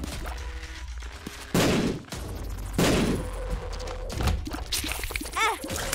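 Bombs going off in The Binding of Isaac: Repentance, two or three loud broadband blasts a second or so apart, each a short burst over a steady bed of game music and effects, with a chirping tone near the end.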